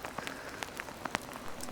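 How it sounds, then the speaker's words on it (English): Rain pours more heavily outdoors, a dense, crackling patter broken by sharper individual drop hits, close and steady, with no talking. "getting out of the rain right now because it starts pouring a little more heavy"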